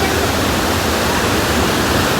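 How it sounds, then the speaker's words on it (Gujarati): Gira waterfall near Saputara pours in a steady, loud, close roar of falling water, a dense unbroken rush filling the whole short stretch with no voices. "આ જુઓ તમે કેવો ધોધ પડે છે"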